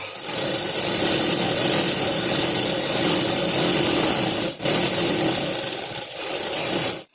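A sewing machine stitches a seam on a cotton frock-style kurti, a steady close mechanical whir running for several seconds with two brief pauses between runs.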